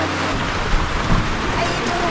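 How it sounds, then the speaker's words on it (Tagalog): Steady, dense rain hiss fills the whole stretch, a broad wash of downpour with a couple of faint low thumps partway through. "Grabe ang ulan dito"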